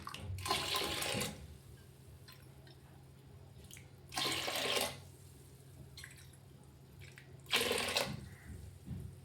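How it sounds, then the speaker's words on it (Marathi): Water pours into a pressure cooker holding urad dal in three separate faint bursts, each lasting about a second, with quiet gaps between them. "कुकरमध्ये उडदाची डाळ टाकून घेतली आहे। इथे 1 तांब्या पाणी टाकते मी।"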